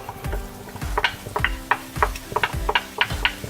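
Onions fry in butter in a pan with a soft sizzle while a utensil scrapes and taps against the pan in a quick, uneven rhythm.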